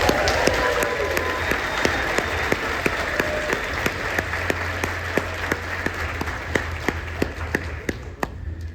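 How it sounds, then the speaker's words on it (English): A large convention audience applauds at the Blerdcon 2024 closing ceremony, a dense, steady wash of many hands clapping that holds at an even level throughout, with a few sharper close claps standing out. "So let's give them another round of applause."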